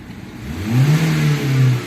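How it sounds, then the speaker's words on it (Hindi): A Kia Sonet running on CNG with a Motozen kit revs up, the engine note rising from a low idle into a loud, steady drone that holds near the microphone for over a second. "अब रेस देते हैं, इसका रेस देखिए"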